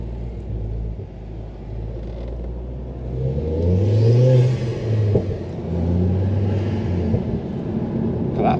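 A Ford Focus ST tuned past 300 bhp, its engine rumbling and burbling at idle from inside the car, a low uneven throb that swells a little midway, with no talking.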